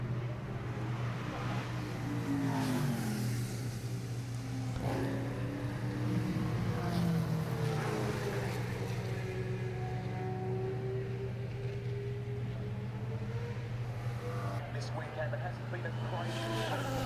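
Formula One race cars sweep past at the 2023 Australian Grand Prix, their engine tones rising and falling as they pass at a distance over a steady low hum, with crowd voices in the background.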